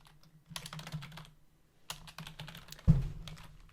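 Computer keyboard keys clatter in short bursts of typing while a tower defense game is coded, separated by quiet pauses and ending in one heavier thump, close and clear.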